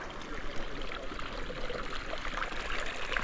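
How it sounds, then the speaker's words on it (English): Small waterfall of boiling hot spring water in the Atacama Desert, a steady close splashing trickle and rush of falling water, unbroken and fairly faint, with no voices. "Mini waterfall."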